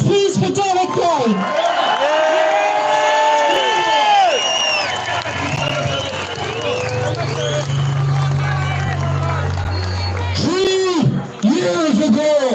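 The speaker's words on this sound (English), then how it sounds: "So can I get a big round of applause, please, for Derek Bly?" A protest crowd on a street cheers loudly and continuously, with rising whoops and shouts close by over a low engine rumble; the cheering dips briefly near the end before surging again.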